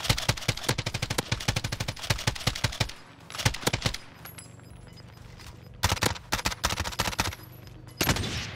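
Rapid bursts of PKM light machine gun fire in Modern Warfare Warzone, loud close rattling volleys broken by short pauses and followed by further sustained strings of shots.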